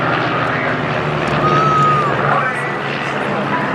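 Aerobatic display team planes looping over the Torbay Airshow, a steady roaring engine drone overhead, moderately loud, with a commentator talking over it.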